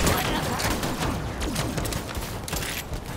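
Gunfire from a gun in Borderlands 3, a dense continuous rattle of rapid shots with mechanical clatter, loud and sustained.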